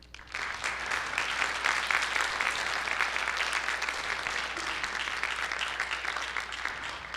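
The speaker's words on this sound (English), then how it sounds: "Round of applause, please, for all the presenters." Sustained applause from an audience after student panel presentations, steady clapping filling the room from start to finish without pause.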